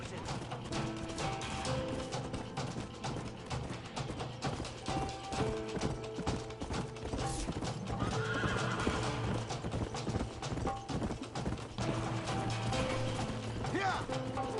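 Horses in the video game Red Dead Redemption, with clip-clop hoofbeats and whinnies amid mechanical clatter, a continuous busy mix at moderate level.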